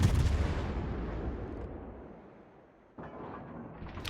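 Main guns of a Des Moines cruiser firing in World of Warships: a loud, deep artillery salvo that rumbles and slowly fades, then a second sharp boom about three seconds later.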